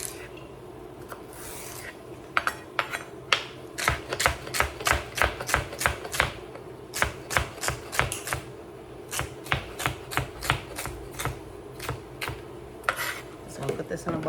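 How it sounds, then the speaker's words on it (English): A knife chops celery on a cutting board in a home kitchen, a long run of quick, sharp taps in uneven bursts, close and fairly loud, with no talking. "I'm going to chop up my celery."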